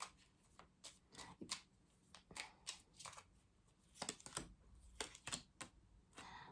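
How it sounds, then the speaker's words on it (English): Tarot cards are shuffled in quick, papery bursts of riffling and tapping, faint and close by, with short pauses between handfuls. "I'm going to shuffle again."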